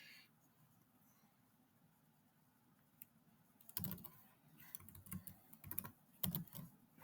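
Computer keyboard keys clattering as code is typed, beginning with a quiet stretch and then a run of close, irregular key taps that grows busier toward the end, with no talk.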